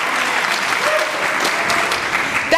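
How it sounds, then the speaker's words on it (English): Sustained applause from a large audience at a climate action summit in San Francisco, a dense, even wash of clapping that stays loud and steady throughout with no voices on top. "Yes, you can clap for that"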